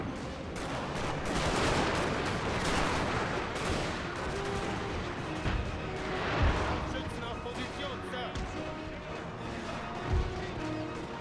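Cannon and artillery fire in the Napoleon: Total War battle game. Dull booms and distant volleys roll under a continuous battle din, with a few heavier thumps standing out, and a voice talks over it.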